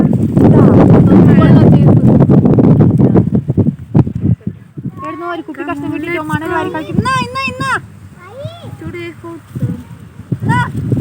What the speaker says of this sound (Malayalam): കാറ്റ് കാറ്റ് എന്നാ കാറ്റാ